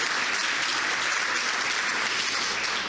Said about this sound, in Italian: un applauso a Bruno